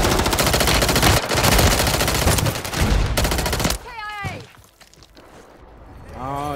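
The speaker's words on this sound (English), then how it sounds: "Oh, that kid might be shooting, bro." Call of Duty Modern Warfare 3 battle royale gunfire: loud sustained automatic bursts for several seconds, then a pause and quieter shots, with players talking over parts of it.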